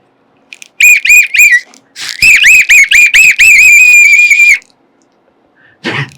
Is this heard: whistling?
yes